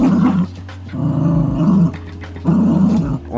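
A small dog growls and snarls in playful bursts, three loud rumbling rounds separated by brief pauses, close up with no talking.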